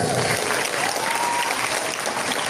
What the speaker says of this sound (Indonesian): Tepuk tangan buat As-Siddiqiyah